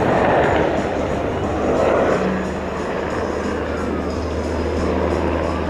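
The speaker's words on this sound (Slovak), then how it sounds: "pilot otočil vrtuľník o 180 stupňov rozbieha, vrtuľník naberá rýchlosť dopredu letom stredu dráhy" A Slovak Air Force UH-60M Black Hawk helicopter turning and accelerating during a flight display at an air show, its engine and rotor roar loud and sustained, swelling and easing slightly as it gathers speed.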